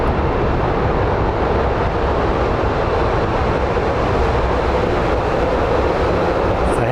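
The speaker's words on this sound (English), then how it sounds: "That looks like a 737 MAX." A Boeing 737 MAX airliner at Phoenix Sky Harbor Airport gives off a loud, steady broadband jet roar that holds constant throughout without talk.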